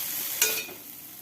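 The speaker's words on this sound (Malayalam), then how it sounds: "ഒരു വലിയ ഉള്ളി നൈസായി അരിഞ്ഞത് ഇട്ട് കൊടുത്ത് ഒന്ന് ഇളക്കി കൊടുത്തു" Chopped onion sizzles in a hot pan for a mackerel fish curry, with one brief stirring scrape over a soft, steady frying hiss.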